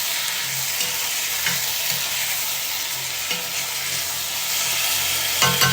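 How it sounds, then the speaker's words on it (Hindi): Tomatoes being stirred and fried in a pan: a continuous loud sizzle and hiss with occasional soft stirring knocks, close and steady, no voices. "इसमें हम ऐड करेंगे टमाटर। इसको करेंगे थोड़ा मिक्स।"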